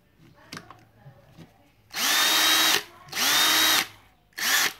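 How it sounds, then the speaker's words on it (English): An old brushed Ryobi Ni-Cd cordless drill whirs up three times in short bursts, each spin-up rising in pitch, after a few quiet clicks and handling sounds. "Now this is what? A 7-year-old drill."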